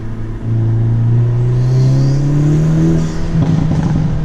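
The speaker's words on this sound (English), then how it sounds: "I don't know if you guys heard how loud those backfires were, but they're incredibly loud." A Hyundai Elantra N fitted with a Forge turbo inlet and intake revs hard, its engine note climbing loud and close, then cracking into a rapid burst of popping backfires.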